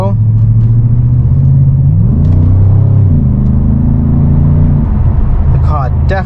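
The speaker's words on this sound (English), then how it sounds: "The car definitely picks up, and that wasn't even full throttle." A 2006 BMW 6 Series E63 650i running on LPG pulls hard from inside the cabin, its deep engine drone rising in pitch as it accelerates under partial throttle, loud and steady, with a voice speaking over it.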